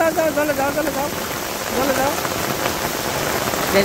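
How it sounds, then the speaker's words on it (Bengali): Light rain falling in a Bangladesh village during the rainy season, a steady close patter and hiss on surfaces, with faint voices in the background. "এই যে আমার বৃষ্টি কম, কিন্তু বৃষ্টি কিন্তু আছে।"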